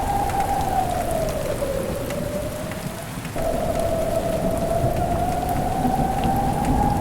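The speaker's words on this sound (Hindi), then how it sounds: "मौसम अचानक बदलता है, अंधड़ आता है और तेज बारिश शुरू हो जाती है।" Heavy, steady rain pours down in a dense hiss, with a low rumbling drone underneath, continuous and loud throughout.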